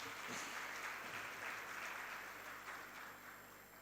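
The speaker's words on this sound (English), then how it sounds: "A big clap for this effort." Audience at a microbiology conference inauguration at Salim Habib University gives a round of applause, a faint, even spread of clapping heard from a distance that gradually tapers off toward the end.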